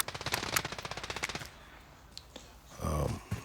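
A rapid burst of gunfire in Call of Duty: Warzone, sharp repeated shots for about a second and a half, followed by quieter scattered sounds and a short heavier blast.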